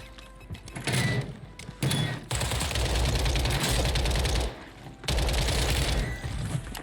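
Rapid bursts of gunfire from a WSP-9 submachine gun in the video game Warzone, loud and close, with dense automatic volleys broken by short pauses across the clip.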